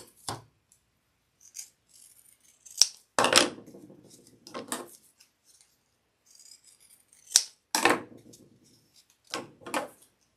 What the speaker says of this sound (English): So I'm just going to trim this side down now.